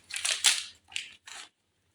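Crinkly rustling and crunching of a motorcycle gearset package being unboxed, an HKC 428 chain and sprocket set for a Yamaha R15 V3, in three close bursts before a quiet end.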